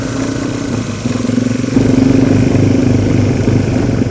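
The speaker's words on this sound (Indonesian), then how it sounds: "Dan perjalanan menuju desa Lelekaa kembali dilanjutkan dengan menggunakan sepeda motor" Motorcycle engine ridden along a steep dirt trail toward a village in Indonesia, loud close mid-pitched engine chug that surges into higher throttle partway through, continuous with no talking.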